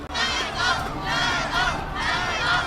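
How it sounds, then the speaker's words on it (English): A rambunctious crowd at a Street Fighter 6 tournament roars and chants in swelling waves of loud cheering, with a voice talking over it. "You can hear that, the rambunctious crowds"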